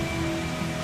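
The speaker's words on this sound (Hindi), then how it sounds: "कितने जोर से बारिश हो रही है देखो" Heavy rain pours down in a sudden downpour, a steady, dense hiss that fills the whole moment with no pause or talking.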